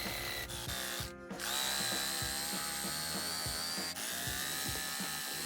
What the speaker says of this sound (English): now I can get my jigsaw in there and just saw straight across.